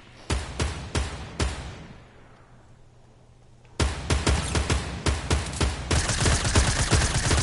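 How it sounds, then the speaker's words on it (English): Gunfire in a video game: bursts of close, loud shots in quick rhythmic volleys, a brief lull, then heavier sustained rapid fire building to a dense barrage. "They're here. They're firing."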